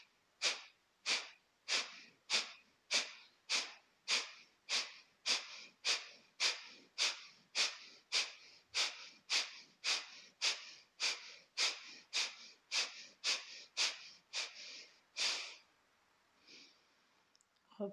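Deep breathing exercise during a yoga session: about twenty-five sharp, evenly spaced breaths in a steady fast rhythm, close and clear, ending with a longer breath and a few softer ones, no talk over them.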